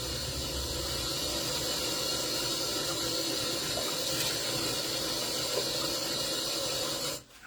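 Steady running water from a faucet while cleansing balm is rinsed off a face, a constant loud hiss that holds evenly and then cuts off near the end.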